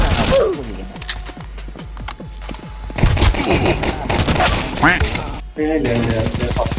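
Close, loud gunfire from the Counter-Strike 2 video game, with rapid bursts and single shots mixed with mechanical weapon clicks; players talk over the shooting.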